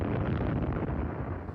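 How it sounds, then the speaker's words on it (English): A loud, booming blast like an old cannon firing, heard in a TV episode as a broad rumbling roar that fills the short moment without any talk. "That's the gunshot. That's not thunder"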